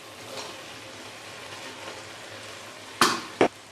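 Chana dal dropped into a pan of hot oil for a dhaba-style recipe, giving a steady close sizzle and frying hiss, then two sharp stirring scrapes near the end.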